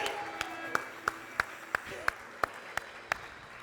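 Rhythmic congregation clapping in a steady beat at a church service, about ten sharp claps, moderately loud over a faint background murmur.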